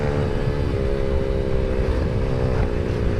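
A motorcycle engine drones steadily at high revs while the bike speeds along an empty road, a loud, continuous close-up hum with no talking.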